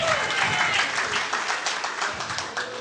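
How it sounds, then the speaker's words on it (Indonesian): Audience applause at a candidate introduction event, a steady wash of clapping from a crowd at moderate distance, with faint voices underneath, gradually thinning toward the end. "Berikan tepuk tangan untuk Dasep Ahmadi."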